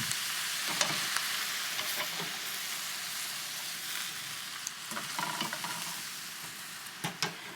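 Drained, softened noodles fry in a skillet until crispy, making a continuous bright sizzle and hiss close by, broken by sharp clicks and scrapes of a utensil moving them around, with no talking.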